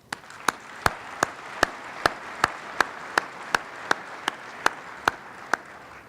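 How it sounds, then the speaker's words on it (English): Audience applause at a city mayor's State of the City address in Riverside, a steady wash of clapping from a crowd, with one sharp, louder nearby clap cutting through at a regular beat. "Your applause, please."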